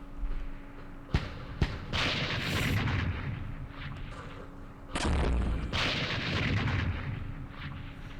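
Booming artillery fire in the Vietnam war game Campaign Series Vietnam, set at Dien Bien Phu: sharp cracks, then two heavy rumbling blasts a few seconds apart that roll away over a quiet background.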